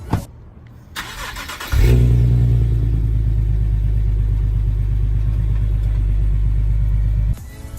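A 370Z's engine cold-starts, cranking briefly, then catches and roars into a loud, steady high idle that holds for several seconds before cutting out.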